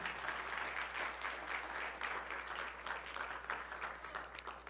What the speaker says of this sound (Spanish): No, se van a aplaudir de verdad